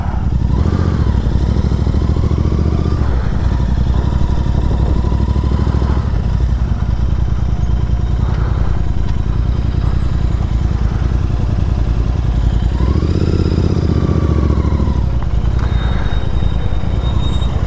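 Motorcycles, touring Interceptors, ride through Leyburn village in North Yorkshire, a loud continuous engine drone with rising and falling revs and wind noise close to the mic, and no talking.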